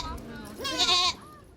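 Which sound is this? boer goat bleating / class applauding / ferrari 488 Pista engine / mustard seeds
boer goat bleating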